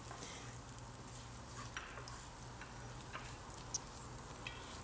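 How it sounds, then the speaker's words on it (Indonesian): Spices stir-fry in a pan for spicy fried spaghetti with curry seasoning, a faint steady sizzle with a few light scraping ticks and clicks from stirring. "Kita tumis hingga berbau harum."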